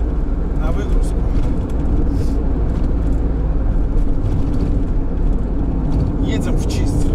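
Cabin rumble of a truck driving to unload on local roads near Minsk, a steady loud low engine and road drone throughout, with faint higher rattles and clicks.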